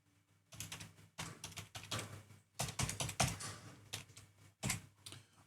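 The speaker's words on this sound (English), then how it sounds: "Then I'll type my password." Keys on a computer keyboard are typed in short, irregular bursts of close, crisp clicks separated by brief pauses.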